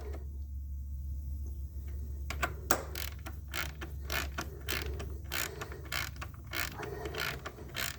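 A hand ratchet tightening intake plenum bolts on a 2010 Dodge Charger 3.5 engine, a steady run of close, crisp clicking strokes after a brief lull, over a low background hum.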